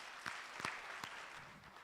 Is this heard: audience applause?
yes